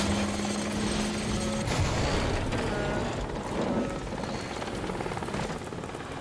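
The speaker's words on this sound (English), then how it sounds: "What is the helicopter about to do?" A helicopter in the Deadpool video game thrums loudly and continuously, its rotor drone steady and close throughout.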